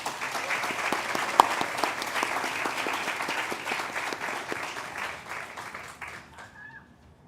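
A crowd at a State of the City address applauds the police department, sustained clapping that holds steady for several seconds before fading out.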